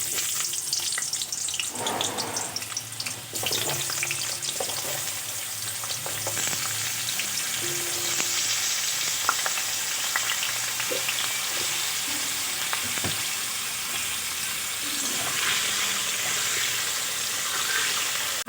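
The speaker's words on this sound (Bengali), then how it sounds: "তেল গরম হয়ে গেছে, আলুগুলো ভেজে নেব।" Potatoes frying in hot oil in a kadai for aloo matar ghugni, a steady loud sizzle with occasional stirring clinks, continuous throughout.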